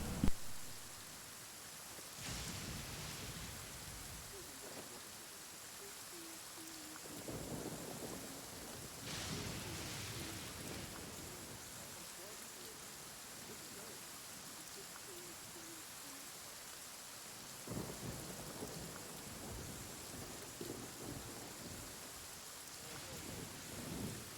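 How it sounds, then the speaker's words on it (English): Steady rain falls with several deep rolls of thunder spaced through the scene, a calm storm ambience in Genshin Impact's Inazuma region with no talking. "Sit here and listen to the rain."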